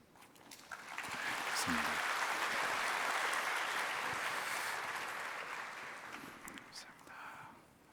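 A church congregation at a Sunday service applauds newly appointed class leaders. The clapping swells into a sustained, full round of applause, then tapers off, with faint voices at the edges.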